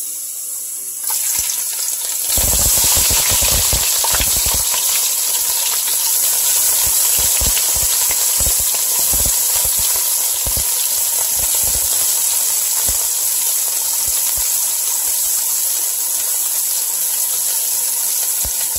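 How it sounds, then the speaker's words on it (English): About one large onion frying in oil or ghee for biryani, a loud, dense, continuous sizzle and hiss that starts after a short quiet moment and runs steadily. "Fry it until it's nice and golden brown."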